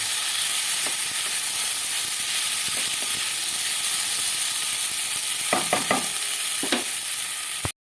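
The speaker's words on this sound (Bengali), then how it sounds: "আমি এইভাবেই পেঁয়াজের সঙ্গে একবারে ভেজে কষিয়ে নিই" Potatoes and onions frying together in a pan, with a constant dense sizzle throughout, a few spatula scrapes clustered late, and a sudden cut to silence at the end.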